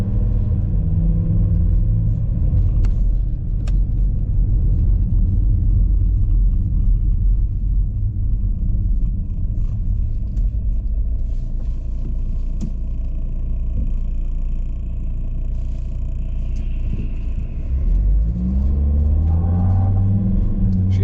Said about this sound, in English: there's a car coming this way